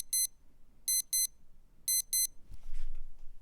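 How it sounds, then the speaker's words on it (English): A Casio W-217H digital watch alarm beeps loudly in rapid double bursts, three sharp high-pitched pairs evenly spaced, then a brief rustle of handling. "It is the alarm, which is ridiculously loud."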